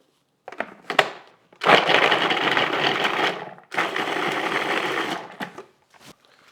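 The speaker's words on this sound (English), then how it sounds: "our veggies ready to go in the food processor. I'm going to start with the carrots and give them just a little blend" A food processor pulses carrots in two loud bursts of whirring, chopping noise, each lasting about a second or two, with brief clatters before and after as the blades stop.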